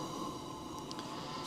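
Martin two-burner propane stove with both burners cranked high, giving a steady, even roaring hiss that stays constant and fairly loud, close up, with no speech.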